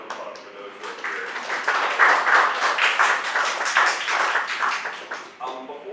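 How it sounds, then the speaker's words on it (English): Audience applause at an indoor gathering, a dense burst of clapping that swells and holds for several seconds before fading, with brief speech at the start and end. "one more round of applause for those who are here."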